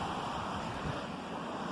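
Waterfall at Elsecar Reservoir, heard from the top as a steady, broadband rushing roar of falling water, continuous and fairly loud with no pauses, closely resembling surf and partly blended with wind noise on the microphone.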